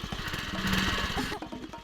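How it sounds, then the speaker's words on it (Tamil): A motorbike engine revs hard and steadily while the bike stays put with its brake still on, loud and close throughout, with no one speaking over it, in a Tamil movie scene. "என்னடா இவ்வளோ ரேஸ் பண்ணாலும் போக மாட்டேங்குது"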